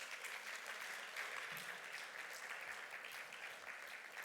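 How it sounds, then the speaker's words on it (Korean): A church congregation claps in celebration during a Sunday service, a faint, steady, even patter of many hands that carries on throughout without talk. "여러분 큰 축하의 박수를 해주시기 바랍니다."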